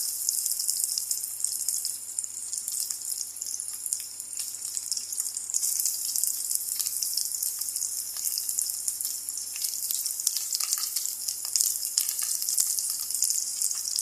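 Garlic fries in a pan for a sauté of watermelon rind, giving a loud, steady crackling sizzle that runs throughout with faint stirring scrapes.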